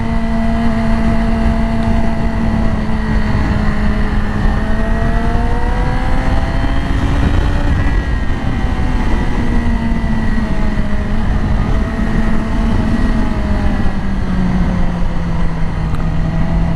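A Yamaha R6 sport motorcycle engine hums steadily while riding, its pitch rising and easing in smooth waves, loud and close throughout with continuous wind noise and no talking.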